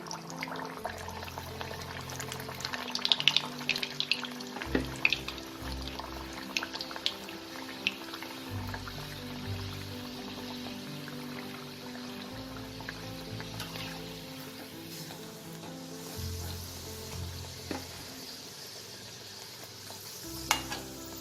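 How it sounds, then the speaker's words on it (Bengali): Stuffed chana dal puris deep-frying one by one in hot white oil in a kadai, a steady close bubbling sizzle running throughout with occasional light stirring and spatula clinks over a low background hum. "বেলে রাখা পুরিগুলোকে এক এক করে ভেজে নেব।"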